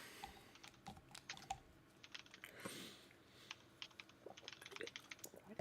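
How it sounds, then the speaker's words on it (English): Soft, rapid keyboard typing clicks along steadily in irregular bursts, fairly quiet and close, with no talking. "I hear typing."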